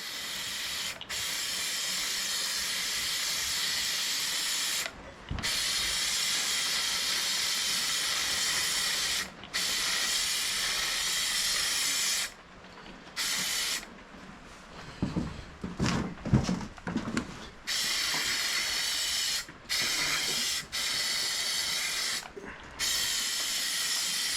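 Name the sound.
paint spraying on garden tractor parts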